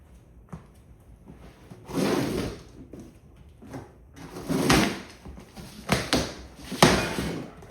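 The cardboard box of a Mekoh 22-inch surface cleaner is opened up close, with scattered bursts of rustling, scraping and thumping packaging separated by quiet pauses.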